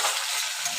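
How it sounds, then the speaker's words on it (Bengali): Potatoes frying in a pan with tomato, green chilli and onion, a soft steady sizzle with faint stirring, quiet and unbroken throughout. "আলুটা দিয়ে একটু ভালো করে ভাজা ভাজা করে নেব"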